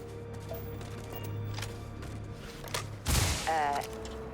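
Gunfire in the space game Starfield: a quiet stretch of faint thumps, then a short, sharp burst of shots near the end, heard alone without talk.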